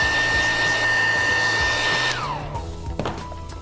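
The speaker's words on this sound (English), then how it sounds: "You can then dry that with the hairdryer and your job is complete." A hair dryer blows steadily over freshly repaired torn leather, a loud constant whine that cuts off and spins down near the end.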